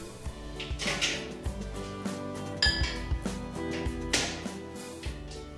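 Glass clinks and knocks as pieces of soap base go into a glass that is then set in a microwave, with repeated light taps, a rattling clatter midway and soft handling noises.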